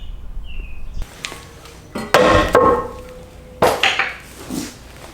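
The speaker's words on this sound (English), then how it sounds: "Usually you got to beat on your old control arm with a big rubber mallet and it will pop right out" A big rubber mallet pounds on the old rear control arm of a Ford Escape, giving a few heavy, separate thuds with metallic ringing, close and loud, spaced over a few seconds.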